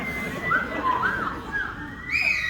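A man in a convention hall crowd at a Star Wars fan event whistles a warbling, beeping imitation of the R2-D2 droid, several rising and falling chirps over a murmuring audience.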